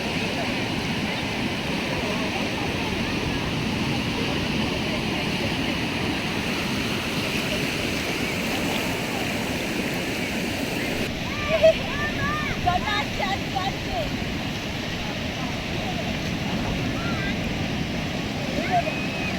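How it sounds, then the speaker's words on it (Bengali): Ocean waves break and wash up on the beach at Pondicherry as a constant loud roar with wind buffeting the microphone, and voices talk over the surf in the second half. "আবার একটা ঢেউ আসছে, ভিজিয়ে দিল,"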